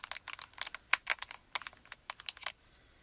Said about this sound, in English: If I can open a little baggie here